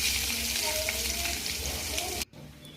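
Grated potato sizzles loudly in hot oil, a close, continuous frying hiss with faint stirring, breaking off sharply just before the end.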